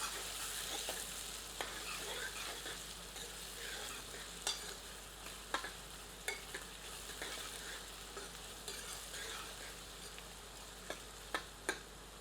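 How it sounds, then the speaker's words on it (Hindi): Onions sizzling and frying in a pan over medium heat while a cook makes hare chane ka nimona, a steady soft crackle with scattered sharp pops and stirring clicks, alone and fairly quiet. "प्याज को भूनकर सुनहरा कर लेते हैं।"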